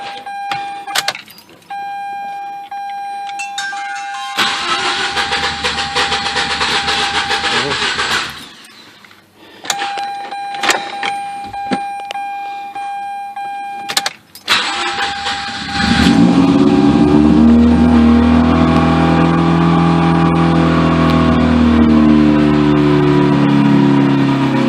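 A Mazda RX-8 rotary with newly fitted BHR coils and a cleaned throttle body is started cold. Key jingles and a steady tone come first, then it cranks and catches into a loud, rising, sustained rev.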